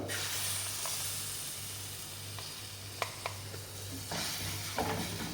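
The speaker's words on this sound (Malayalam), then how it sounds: "നമ്മൾ നേരത്തെ തയ്യാറാക്കി വെച്ചിരിക്കുന്ന തക്കാളി പേസ്റ്റ് ഇതിലോട്ട് ചേർത്ത് കൊടുക്കാം" Tomato paste sizzles and fries with spices in a pan for a Kerala-style thick-gravy sardine curry, a steady close hiss with a few soft clinks of stirring.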